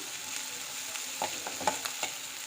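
Sliced onions frying in a pan until glassy, a continuous close sizzle with a few light scrapes and pops as they are stirred.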